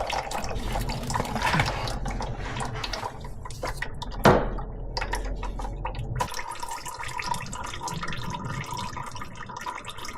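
Motor oil draining from a Ram TRX during an oil change, a steady liquid trickle and patter. A brief sharper splash or clunk comes partway through against a continuous background.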